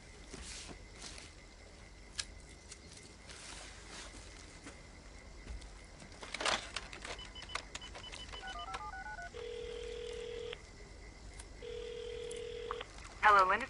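A telephone number is dialed, with a series of short beeps and tones followed by longer steady tones, heard fairly close over quiet indoor background noise.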